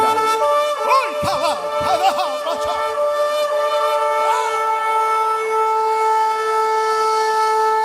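Sustained siren-like wail presented as the trumpet call of the last hour in a church service, with layered steady tones and wavering pitch sweeps, loud and continuous with a faint murmur of voices beneath.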